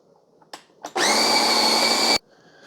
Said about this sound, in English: Okay, so I'm going to grind my own coffee.